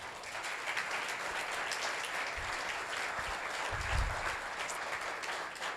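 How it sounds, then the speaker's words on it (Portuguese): A church congregation applauds loudly and steadily, a dense roar of many hands clapping that holds evenly for several seconds, with a few low thumps underneath. "Você pode aplaudir forte?"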